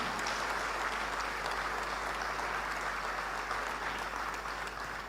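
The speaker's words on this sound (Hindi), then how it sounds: "लगातार तालियां" A crowd applauds steadily at an award ceremony in Bhopal, a dense, continuous clapping that holds an even level from start to finish with no voices over it.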